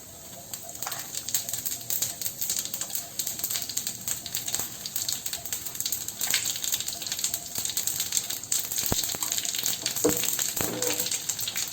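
Steady crackling sizzle of spices frying in hot oil, continuous and fairly close, with a few sharper pops and clinks near the end.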